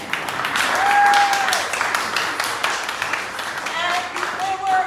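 A theatre audience applauds a cast and crew with dense clapping that swells and then tapers slightly, with a few voices mixed in.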